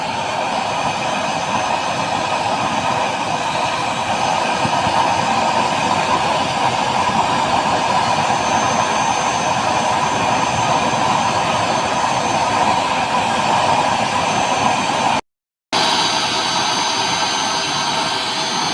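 A homemade stove burning used motor oil roars with a loud, steady broadband rush like a jet engine, holding continuously with a brief dropout near the end and no talk.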